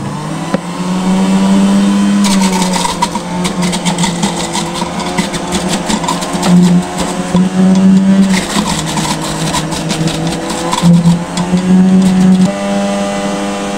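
A juicer motor whirs loud and steady while processing carrots and oranges, its pitch dipping and rising under load in repeated waves as pieces are fed in, with no talking.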